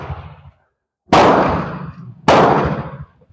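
Two loud, sharp gunshots from an Enfield No5 Mk1 rifle, about a second apart, each with a long rolling decay, following a brief murmur.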